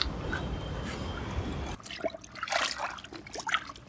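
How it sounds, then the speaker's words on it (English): Water runs and trickles for soaking a white dress before tie-dyeing: a steady pour at first, then softer splashes and dribbles, fairly quiet and without talk. "Now we need water and we need to soak it first."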